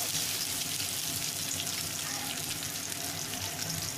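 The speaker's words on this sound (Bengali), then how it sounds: "পেঁয়াজটা একটু ভাজা ভাজা হবে" Onions sizzle steadily in hot oil tempered with cumin seeds while a pea ghugni is being cooked, giving a continuous loud frying crackle with no voices.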